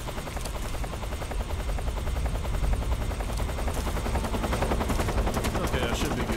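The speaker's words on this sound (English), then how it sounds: "The helicopter pass." A helicopter in Metal Gear Solid 3: Snake Eater drones steadily throughout with a dense rotor chop, loud and continuous, mixed with rapid gunfire-like bursts in the game soundscape.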